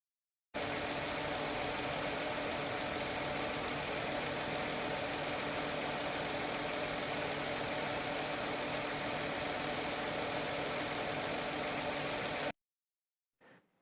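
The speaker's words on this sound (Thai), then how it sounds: "เดี๋ยวไปฟังเสียงเครื่องยนต์ดูนะ ครับว่าจะนิ่งเรียบได้ขนาดไหน" A 1998 Nissan Cefiro 3.0 automatic's engine idles smoothly and steadily for about twelve seconds, then cuts off, leaving a brief faint noise afterward.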